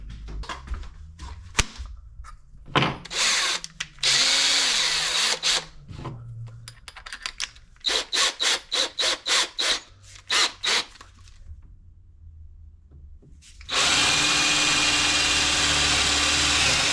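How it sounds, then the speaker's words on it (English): A power drill fitted with a dull metal bit bores holes for bolts, with bursts of whirring, a run of short pulsing spins, and a long steady drilling stretch at the end, all close and loud. "Drill a couple holes."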